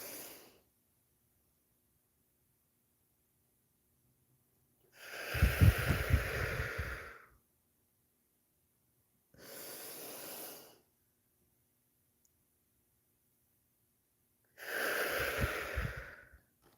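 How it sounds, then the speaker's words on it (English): Slow box breathing: three long, airy breaths, each a few seconds long and close to the microphone, separated by silent held pauses. "Okay, I'm gonna do the box breathing."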